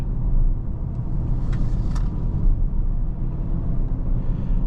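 A 2026 Audi Q3 S-Line driven briskly through a pair of S-turns gives a steady, close road rumble and engine drone from inside the cabin, holding even throughout with a few faint high clicks.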